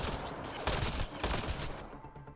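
Gunfire in Mass Effect: Andromeda, a short, loud volley of rapid shots with a couple of heavier bursts, close and dense, fading at the end.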